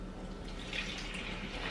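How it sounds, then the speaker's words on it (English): Water poured into flour for a simple no-knead bread dough, a soft steady trickle and splash, faint and close, with no talking. "he's gonna pour in our water"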